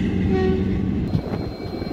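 A WDP-4D diesel locomotive rolls past nearby, its heavy rumble and a fading horn tone giving way to a brief clank of wheels on rail, with no voices.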